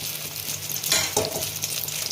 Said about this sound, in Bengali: বেগুনগুলো ভাজা হয়ে গেছে